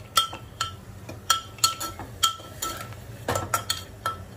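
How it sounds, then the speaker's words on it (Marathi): A spoon stirs sprouted moth beans frying in oil inside a pressure cooker, giving sharp metallic clinks and scrapes against the pot in an uneven rhythm, close up over a soft sizzle. "या कुकरमध्ये थोडेसे तेल टाकून ही मटकी तेलामध्ये परतून घेणार आहे।"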